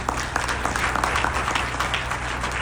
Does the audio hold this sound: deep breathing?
no